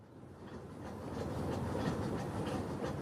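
A train rolls steadily along the rails with a continuous rumble and faint clickety-clack of the wheels, growing slightly louder partway through and holding at a constant level, with no voices.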